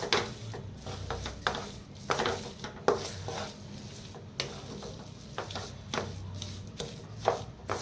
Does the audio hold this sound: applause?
no